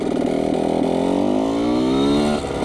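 A Yamaha YZ125 two-stroke dirt bike with a loose, slipping clutch revs loud and close, a buzzing engine note climbing steadily in pitch before dropping off near the end.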